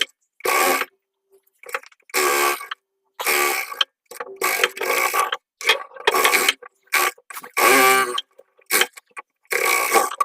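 A sewing machine stitches a shirt cuff in repeated short bursts of rapid mechanical whirring, close and clear. Brief silent pauses separate the runs.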